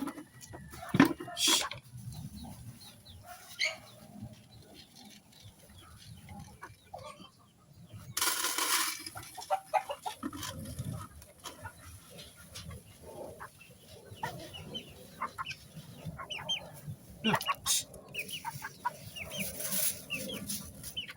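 Pet chicks bought two days ago cluck and peep in short scattered bursts, fairly close but soft, amid quiet shuffling and occasional knocks.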